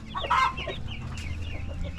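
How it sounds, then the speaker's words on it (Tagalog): Chickens cluck on a farm that also keeps ducks, a close chorus of clucks and short calls over low background noise, with no speech. "Ay, mga manok. Ay, mga itik, oh."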